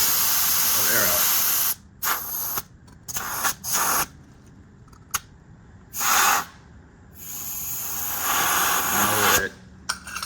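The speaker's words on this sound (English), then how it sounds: "you can lightly tap on the valve stem and you can let a little bit of air out" Short bursts of air hiss from a car tire valve stem as it is tapped to let pressure out, several brief spurts separated by pauses, close up, with someone talking between them.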